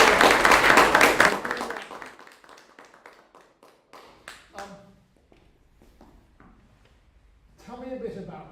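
Applause from a small audience at a music masterclass starts loud and full, then thins into scattered individual claps and taps before a voice speaks near the end.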